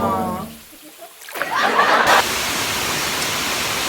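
A waterfall that has just been cleared of litter rushes with a loud, steady broadband wash, coming in after a short stretch of voice and a brief quiet gap.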